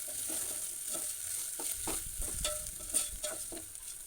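Lamb head curry with green chillies frying in a pan, a steady hiss of sizzling oil broken by repeated scraping strokes of a spoon stirring the meat, close and fairly quiet with no talk.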